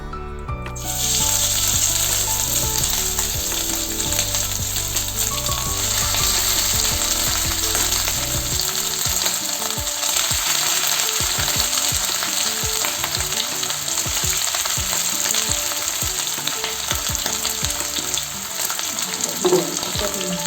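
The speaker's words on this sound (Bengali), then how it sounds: "তো তেলটা গরম হয়ে গেছে, তেলের মধ্যে ম্যারিনেট চিকেনটা আমি দিয়ে দেবো।" Marinated chicken sizzles and fries in hot oil, a steady, loud crackling hiss that runs throughout with occasional stirring clinks and no talking.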